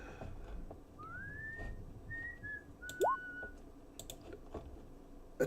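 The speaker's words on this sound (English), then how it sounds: "just whistling. Just whistling." A person whistles a jaunty tune in a few short sliding phrases, moderately close, over a background of clicking and low room noise.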